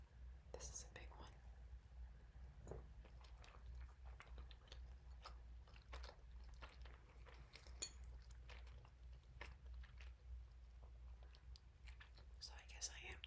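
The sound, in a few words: eating and chewing pasta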